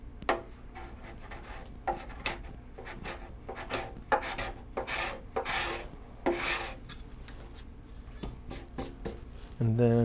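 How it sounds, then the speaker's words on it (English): A hand scraper removes paint from a delicate bend before sanding, producing close, rasping strokes in an uneven rhythm, some short and some drawn out. "So I'm going to try to scrape it first."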